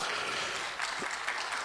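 Applause from a seated audience at the Badr conference in Ethiopia, welcoming a state minister; a steady, fairly quiet wash of clapping runs through the whole stretch without voices.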